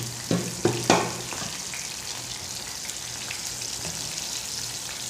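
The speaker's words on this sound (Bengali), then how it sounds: "মাছটা একটু কড়া করে ভাজব।" Steady hot-oil frying crackles and hisses throughout as fish and eggplant fry in a pan, with a few sharp clatters near the start as food is added or moved.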